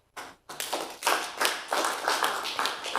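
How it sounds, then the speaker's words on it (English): Clapping from a small gathering at a housing town hall meeting, starting abruptly after a brief pause and continuing as a steady, moderately loud patter of hands. "I see clapping."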